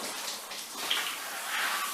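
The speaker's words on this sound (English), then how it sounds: "That way I can take this wand and I can control my water." A water spray wand hisses steadily while rinsing a freshly skinned deer carcass, a soft continuous spray with no voices heard.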